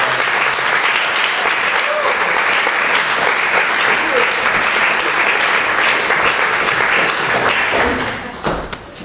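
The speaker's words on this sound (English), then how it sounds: "If everyone would give a big clap." An open mic audience gives loud, dense, sustained applause for a poet, a close wash of many hands clapping that drops off near the end.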